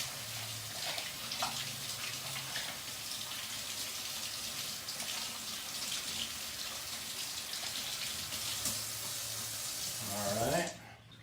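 Tap water runs steadily into a sink during hand washing before cooking, a close, continuous splashing hiss that swells briefly near the end before it cuts off.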